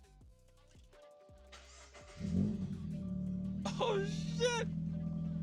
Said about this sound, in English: I'm gonna try and start the car without this muffler